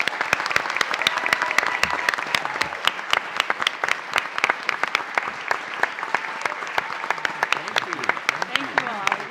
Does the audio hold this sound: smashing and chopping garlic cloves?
no